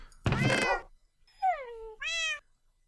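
A cat in the video game Minecraft meows three times, clear and close, with short pauses between the calls and no talking over them.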